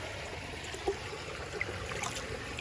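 Water flows steadily in a creek at a campsite, a soft, continuous trickle and burble at close range, with no talk over it.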